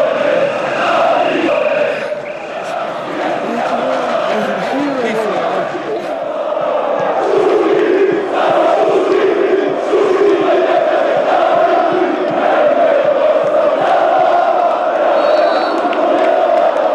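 Thousands of Hajduk Split football fans sing and chant together in a dense, sustained crowd roar, voices rising in unison with whoops and shouts, loud and continuous throughout.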